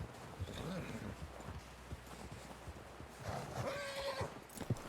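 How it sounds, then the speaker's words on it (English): A horse in Red Dead Redemption 2 gives a brief whinny over scattered hoof clops and shuffling, with someone talking quietly through most of it. "Someone help John down off this horse"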